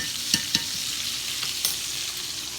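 Thick steaks fry in a pan with a loud, continuous close-up sizzle, marked by a few sharp pops and spatters and no talking.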